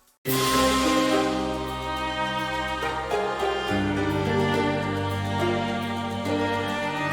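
Calm orchestral game score: a piano chord progression doubled by choir and double bass, with a solo viola melody on top, sustained and clear with no talking over it.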